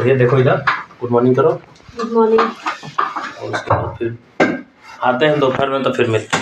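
Pots and dishes, including a pan used for fish, clink and clatter as they are washed in a kitchen, heard beneath near-continuous talking.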